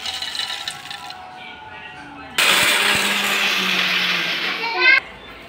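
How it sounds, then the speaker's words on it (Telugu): A kitchen mixer grinds roasted peanuts in one loud, steady whirring burst lasting a few seconds, starting abruptly after a faint spoken stretch and cutting off sharply at the end. "ఇప్పుడైతే పల్లీలు అయితే పట్టేస్తాం."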